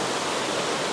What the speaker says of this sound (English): I love the sound of the water in the falls.